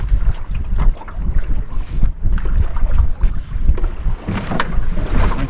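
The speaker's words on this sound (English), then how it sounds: "now the wind picked up suddenly" Strong wind buffeting a sailing boat, gusting in uneven bursts with rushing and flapping noise up close, no voices.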